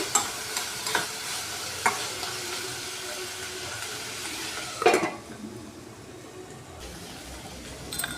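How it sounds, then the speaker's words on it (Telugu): Crushed ginger and garlic fry in a pan with a steady sizzle, broken by several sharp stirring clinks and scrapes. Near the middle, one louder clatter is followed by a quieter, softer sizzle. "అల్లం తల్లుల్లి చితగొట్టాను ఇవి బ్రౌన్ కలర్ వచ్చినంత వరకు వేయించుకోవాలి"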